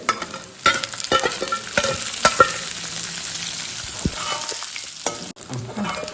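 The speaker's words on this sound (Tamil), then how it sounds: "நல்லா பொரியணும் இது இப்படி பொரிஞ்சிட்டு இருக்க நேரம்" Marinated chicken fries in a pan with sautéed aromatics, crackling and sizzling up close while a utensil stirs and scrapes in irregular bursts, with a few sharp clacks.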